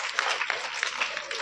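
Brief burst of audience applause at a motivational seminar in a school, steady dense clapping from a crowd filling the moment.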